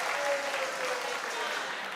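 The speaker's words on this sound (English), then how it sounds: "A round of applause to them." Applause from the audience at a university quiz competition on gas and energy, a brief steady wash of many hands clapping at moderate loudness.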